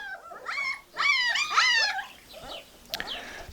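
Very young puppies whimper and yip in high, wavering cries, close and fairly loud, in two or three bursts with a short sharp click near the end.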